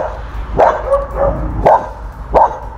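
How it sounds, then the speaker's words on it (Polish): A dog barks three times in sharp, evenly spaced bursts against a steady low background hum, close by and fairly loud, with no talking. "a tu jest dużo szczekania"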